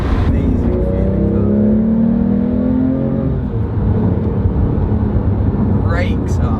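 A Porsche 911R engine drones loudly from inside the cabin while driving, its pitch climbing under acceleration and then easing into a steady rumble with road noise, and a voice is faintly present.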